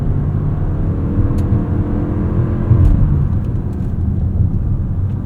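A 2025 Toyota Crown Signia accelerates on an open road, heard from inside the cabin as a steady low engine and road drone with a smooth, mild rise in pitch and a few faint clicks.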